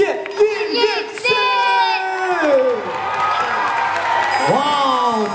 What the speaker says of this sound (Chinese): 让我们以最热烈的掌声